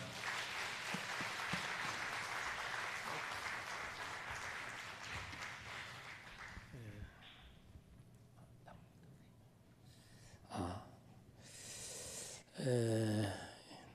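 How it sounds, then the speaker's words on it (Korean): A church congregation applauds at a Sunday evening service as a preacher is welcomed, clapping strongly for several seconds before it thins out, followed by brief thumps and a speaking voice. "박수로 모시겠습니다"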